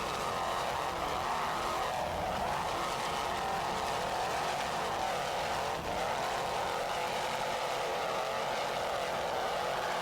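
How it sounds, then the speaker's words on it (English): Offshore racing powerboat driven by two 800 horsepower Mercury inboard engines at a 1993 Virginia Beach offshore grand prix, a steady distant droning roar that holds level throughout with no voices. "Let's listen to those two 800 horsepower Mercury inboards."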